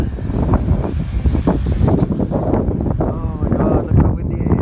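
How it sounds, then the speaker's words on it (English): Strong wind buffets the microphone with loud rumbling gusts during a storm in Bristol, while a voice speaks over the roar. "Oh my god, look how windy it is. It's so windy."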